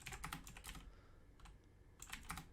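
Someone types on a computer keyboard in quick bursts of key clicks, with a short pause in the middle before another rapid cluster, close and faint with no talking.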